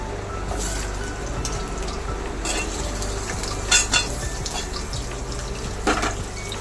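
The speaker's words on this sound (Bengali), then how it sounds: "প্রথমে এর মধ্যে আমি আলুটা ভাজবো।" Steady sizzling of potatoes frying in mustard oil, with occasional stirring scrapes and clinks over a constant crackling hiss.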